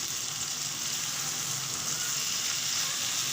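Potato slices for aloo kathli frying in a pan while being stirred, a steady, dense close-up sizzle with continuous crackling hiss throughout.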